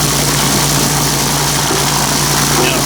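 A Princess Auto rock tumbler runs with a loud, steady mechanical hum and rumble, close up and unchanging from start to finish.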